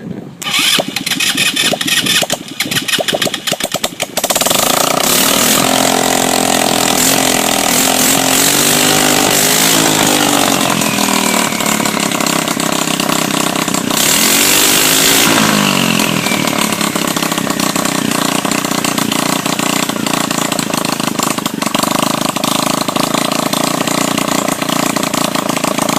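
A pit quad's small engine, primed by pumping the bulb, starts with a sputter and then runs loud and close, revving and buzzing steadily before settling back toward idle.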